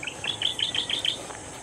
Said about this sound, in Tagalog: Ganda ng ibon na yan